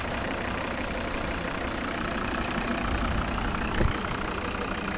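A 2012 Volvo V50 2.0 D3 diesel engine with manual transmission idles steadily with an even, continuous low rumble and no misfires, recorded close by with no voices present.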